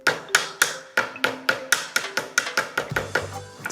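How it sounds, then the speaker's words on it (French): Lemongrass stalks are struck again and again with the back of a knife on a board, about a dozen sharp, close taps in quick, slightly uneven rhythm, with no talking. "La citronnelle, si vous voulez sortir la saveur, les Thaïlandais, ils l'éclatent avec le dos d'un couteau."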